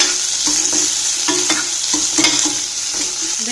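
Finely chopped onion frying over low heat with ginger in a pan for a South Indian greens stir-fry, a steady sizzle broken by several distinct scraping stirs of a spatula, close and clear with no talking.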